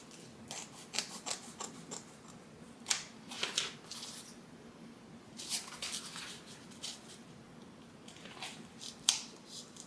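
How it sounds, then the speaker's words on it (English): Scissors snip through extra fabric on a handmade tote bag in short, crisp cuts that come in small clusters with quiet pauses between them, close and fairly soft. "I'm just going to take my scissors and just trim that off."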